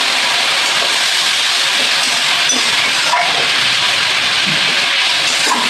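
Water poured over spices frying in a pan for a Bengali fish curry, a loud steady broadband sizzle and hiss close by, continuous throughout with small crackles and no talking.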